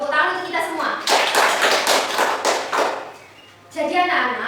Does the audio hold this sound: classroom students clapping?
yes